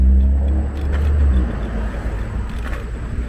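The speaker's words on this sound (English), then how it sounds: "Rush hour traffic's coming." Road traffic at rush hour on a Philadelphia street, heard from inside a vehicle: a steady low engine rumble and passing-car whoosh, loud at first and then settling into a duller roar.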